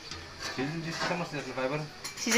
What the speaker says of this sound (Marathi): आता झाकण ठेवून ठेवणार आहे ठेवलं झाकण